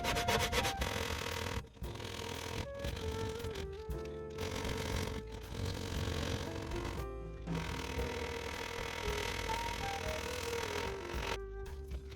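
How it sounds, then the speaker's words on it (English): Coarse sandpaper rubs steadily over dried body filler during rust repair on a Mitsubishi Galant boot, a close, continuous rasping scrape with brief pauses between strokes and no talking. "we can take a coarse sandpaper and start sanding it down."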